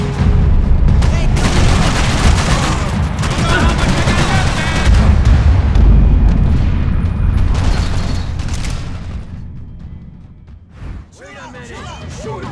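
Gunfire in Max Payne 3, with dense bursts of shots and booms crowding the first eight seconds, loud and close, then thinning out toward the end. Voices shout and talk over the fighting.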